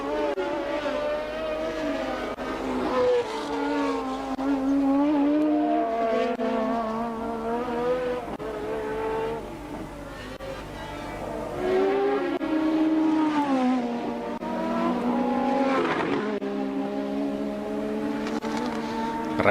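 1983 Formula 1 turbocharged race cars at the Belgian Grand Prix, a loud sustained engine whine whose pitch repeatedly sweeps up and down as the cars accelerate and shift, with no talking throughout.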